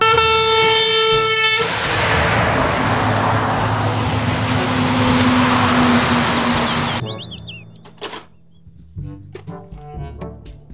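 A container truck's air horn blares loud and close in a sustained tonal blast, followed by a long roar of passing truck and traffic noise that fades into scattered quieter road sounds.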